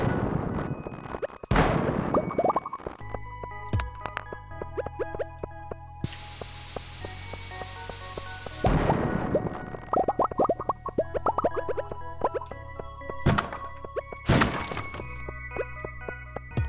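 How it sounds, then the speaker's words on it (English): Bombs blasting in the mines of the Stardew Valley video game, several loud booming explosions spread across the stretch among game thuds and clatter, with a long hissing burst in the middle. "Oh boy, we can do some bombing here."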